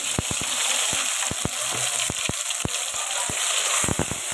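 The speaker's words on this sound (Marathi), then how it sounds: "जो मसाला आहे टाकलेला तो चांगला तेलामध्ये फ्राय करून घ्यायचा" Ground masala paste fries in hot oil for a fish dish, giving a steady close sizzle with repeated sharp crackles and pops throughout.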